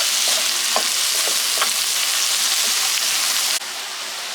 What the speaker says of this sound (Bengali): রসুন কাঁচামরিচ পেঁয়াজের সাথে আরো কিছুক্ষণ ভেজে নেব।